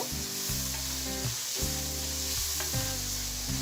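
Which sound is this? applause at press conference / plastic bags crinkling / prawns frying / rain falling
prawns frying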